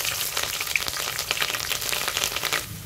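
Seven or eight slit green chillies frying in smoking-hot oil for a village-style chicken chana masala, a steady dense sizzle with crackling pops running evenly throughout, close and fairly loud with no talking.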